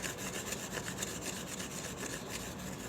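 A stone is rubbed over thin paper, giving a steady, close, rhythmic scraping with repeated strokes heard alone for a few seconds.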